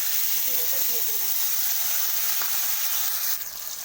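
Black cumin (nigella) seeds sizzling in hot oil as a tempering for Bengali mustard hilsa, a steady bright hiss and crackle throughout that eases off slightly near the end.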